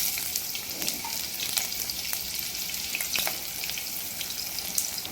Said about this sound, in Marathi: इथे कांदा चांगला तेलामध्ये परतवून घेत आहे